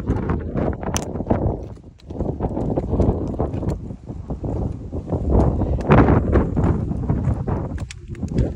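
Gusty wind on Mt. Cagua buffets the microphone in heavy, uneven low rumbles, with scattered clicks and knocks over the top and no talking.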